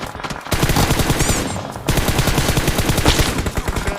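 Rapid automatic gunfire in PUBG Mobile, with loud sustained bursts of shots after a short pause, dense and close, without talk over it.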